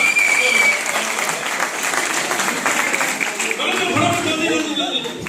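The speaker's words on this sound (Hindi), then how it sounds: "एक बार दोनों भाइयों के लिए तालियां बजा दो" An audience at a network marketing seminar breaks into sustained applause for two brothers, a thick, even wash of clapping lasting several seconds while a voice carries over it.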